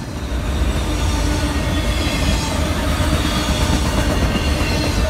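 Norfolk Southern SD40-2 diesel locomotives pulling a short southbound freight train at Duluth, Georgia, a loud, steady rolling rumble with wheel squeal and rail clatter throughout, no voices.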